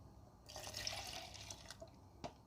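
A cup of water poured into a cooking pot of spiced duck broth with cinnamon, cloves and salt, heard as a soft, steady trickle for about a second and a half, followed by a few faint drips.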